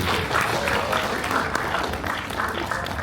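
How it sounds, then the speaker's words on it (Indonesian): Dense applause from a seated audience at a high school graduation ceremony, a steady, even wash of many hands clapping throughout. "Tepuk tangan untuk Cahaya Sakti."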